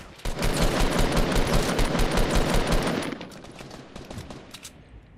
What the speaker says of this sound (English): And I'm getting shot from somewhere else.